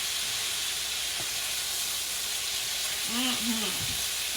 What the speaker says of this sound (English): let's give our chicken its first flip